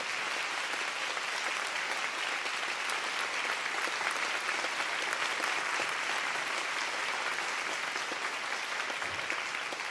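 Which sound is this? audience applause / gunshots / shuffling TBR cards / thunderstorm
audience applause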